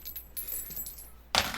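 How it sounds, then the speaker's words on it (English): Dice roll for a tabletop horror role-playing game, a short sharp rattling clatter near the end after quiet room tone, bright and close like hard pieces tumbling on a surface. "I've been waiting to roll these dice for I don't even know how long."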